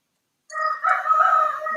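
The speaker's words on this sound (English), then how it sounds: "roosters." Roosters crow outdoors, one loud, drawn-out cock-a-doodle-doo rising after a brief silence, close and clear with no talk over it.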